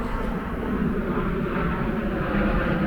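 A steady, broad engine roar of an airplane passing overhead near an airport, continuous and moderately loud with no voices.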